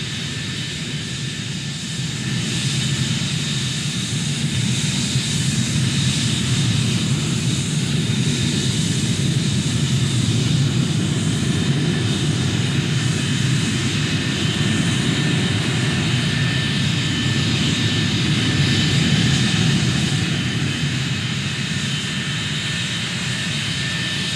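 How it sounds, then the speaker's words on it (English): F-86 Sabre jet fighters flying in formation roar steadily overhead for the whole stretch, a broad sustained jet rumble that swells slightly and never fades out. "sometimes as many as 80 aircraft would fly in complicated formations"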